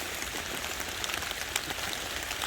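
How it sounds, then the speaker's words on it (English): Rain falls steadily at a winter wild camp, a dense, even hiss of drops hitting surfaces with occasional sharper patters, fairly quiet and constant throughout. "So yeah, as predicted, the rain's come in."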